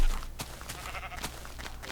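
Sheep in the video game Minecraft bleat in short, close, fairly faint calls, several coming one after another over a low background.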